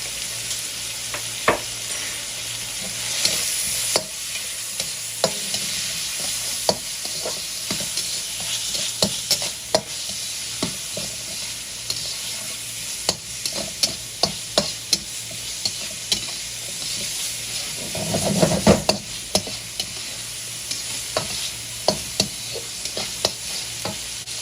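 Minced garlic sizzles steadily in a hot pan while being stir-fried for spicy shrimp lo mein, with repeated utensil clicks and scrapes against the pan throughout.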